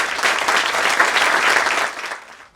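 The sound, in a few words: applause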